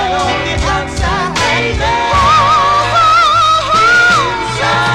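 A 1970s-style soul recording plays from a vinyl 45: loud and full, with a lead vocal gliding over a steady band backing throughout.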